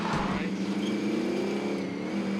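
Motorcycle engine in the video game Warzone, a steady droning rev that holds loud and continuous throughout with a rising tone, no speech over it.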